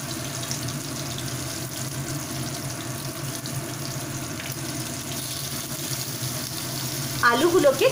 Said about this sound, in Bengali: আলুগুলোকে একটু নুন দিয়ে সামান্য মাখিয়ে আমি ভাজতে বসিয়ে দিচ্ছি